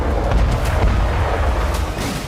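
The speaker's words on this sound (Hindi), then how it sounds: "रूसी गेरान 2 ड्रोन के धमाके" Russian Geran-2 drone strikes in wartime Ukraine produce a series of dull, rumbling booms and blasts, several distinct thuds rolling over a continuous low roar.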